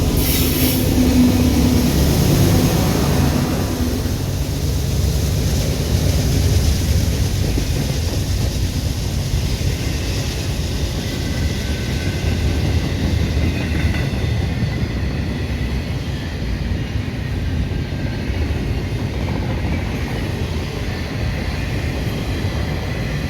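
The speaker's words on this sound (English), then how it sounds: "Here comes the DP unit 5119. Listen to that throttle as it opens up and lets loose." A fast freight train rolls past as its distributed power unit locomotive, number 5119, opens up its throttle, a loud, close rumble of engine and wheels that starts strongest and then holds steady.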